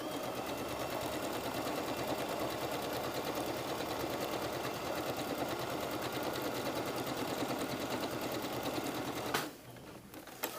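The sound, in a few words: sewing machine stitching a blouse sleeve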